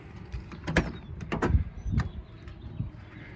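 The door of a 1988 Toyota SR5 pickup truck rock crawler is worked open, giving a few close, quiet mechanical clicks and latch clunks with a soft creak, spaced out over a few seconds.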